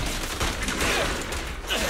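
Fast, continuous gunfire from Zenless Zone Zero rattles close and loud in a dense fusillade, shots overlapping with sharp crackles throughout two seconds, no talk over it.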